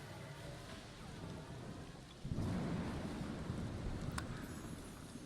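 Steady rain falls in the Night Harbor video game, a continuous soft hiss that swells abruptly into a heavier rumbling downpour midway, with no talking.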